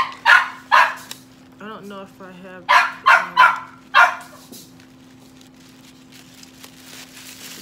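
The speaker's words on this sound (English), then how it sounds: "That's my dog in the background." A dog barks in two quick bursts, then three more, fairly close, with a person speaking briefly between the barks over a steady background hum.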